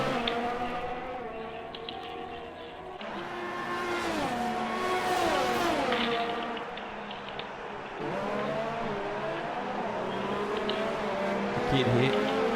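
Formula 1 cars race at the Canadian Grand Prix in an F1 video game, with engines whining and shifting pitch as the cars accelerate and pass, under steady commentary talk.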